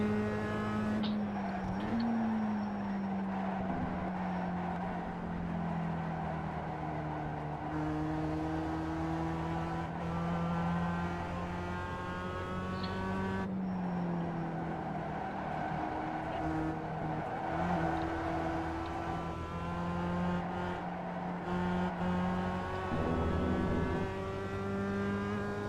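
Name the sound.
race car engine and downshifting at Lime Rock, iRacing video game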